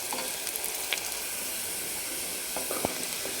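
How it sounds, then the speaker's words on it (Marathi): Onion fries over a high flame while being stirred continuously, producing a dense, close hiss of sizzling oil with a few scraping clicks from the spoon, with no voices. "फुल गॅसवर एकदम मोठ्या गॅसवर परतून घेतला आहे कंटिन्यू ढवळत राहत."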